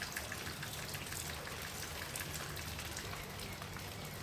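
Intense rain falling steadily, a dense even hiss of drops striking surfaces, constant and close throughout with no other sounds.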